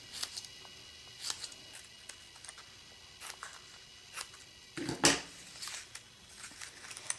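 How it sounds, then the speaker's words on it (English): Scissors make small snips into felt to cut a fringe, a series of quiet, crisp clicks spaced irregularly, close and soft against a hushed room. "I'm just simply taking my scissors and I'm making small snips that are about 1/8 of an inch apart."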